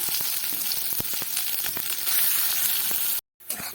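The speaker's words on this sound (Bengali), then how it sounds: "এবারে তেল গরম হয়ে গেছে এবারে আমি এই বাটাগুলো দিয়ে দেব" Ground cabbage paste hits hot oil and fries with a loud, dense crackling sizzle, dotted with spattering pops, cut briefly by a sudden gap before the sizzle resumes.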